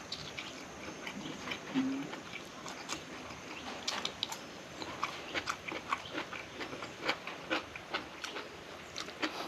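A quiet meal of rice with steamed catfish, chili and fermented fish dip, and bamboo shoot soup, heard as soft, scattered bites, chews and light clicks of eating against a faint room background.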